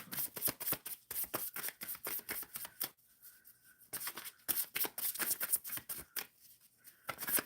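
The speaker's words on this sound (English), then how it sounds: "Shuffling for Razia." Tarot cards are shuffled by hand in quick, crisp riffling bursts, close and clear, pausing briefly mid-way before resuming, with no speech over them.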